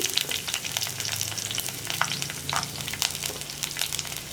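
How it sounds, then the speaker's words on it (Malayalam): Chopped ginger, garlic and onion sizzle with fenugreek seeds in a hot pan while being stirred. A dense, steady close-up crackle and hiss runs throughout with no voices. "നമുക്കിതിലേക്ക് നമ്മൾ കട്ട് ചെയ്ത് വെച്ചിരിക്കുന്ന ഇഞ്ചി, വെളുത്തുള്ളി, ഉള്ളി,"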